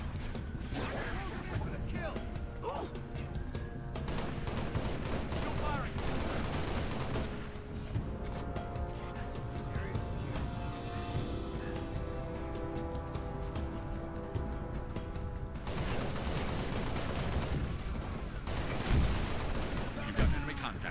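Gunfire in Halo Reach rattles in repeated bursts and volleys, fairly faint and mixed with game voices and music, with heavier shots near the end.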